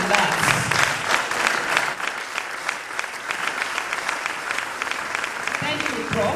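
Sustained applause from a conference audience at a biomedical research event, dense and steady clapping throughout with some crowd noise mixed in.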